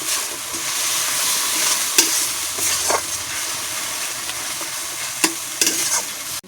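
Spice paste being stirred and fried with onions in a hot pan while cooking a Bengali bhola fish curry: steady close sizzling and frying hiss throughout, with occasional sharp scrapes and clacks of the stirring spoon, no talk.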